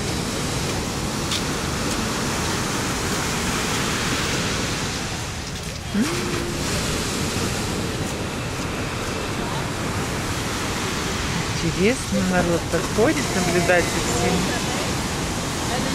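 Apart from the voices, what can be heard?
sea surf waves on a beach in Nha Trang, Vietnam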